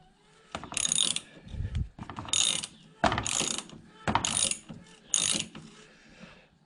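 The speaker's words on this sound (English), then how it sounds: "Need a 17mm socket. We need to turn it clockwise till it stops moving." A 17mm socket ratchet turns the Fox shock adjuster clockwise on a 2021 Can-Am X3 XDS, giving five loud bursts of rapid pawl clicking with short pauses between them, close to the mic and with no talking.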